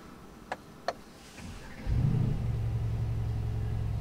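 A 2020 Mercedes-AMG GLC 63 SUV with keyless start gives two sharp clicks, then its engine fires and settles into a steady, deep idle rumble, close and alone.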